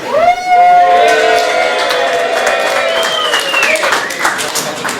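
Startup night audience cheering and applauding in a crowded room, with whoops and bright shouts rising over steady clapping and voices throughout.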